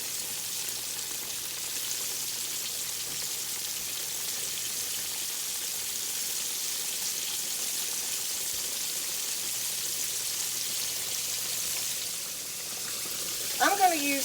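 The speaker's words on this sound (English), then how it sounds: "I'm just going to try to get them all 3 down in the oil" Pork chops sizzle steadily in hot oil, a dense continuous frying hiss that stays loud and even throughout with no talk over it, ending with a brief clatter.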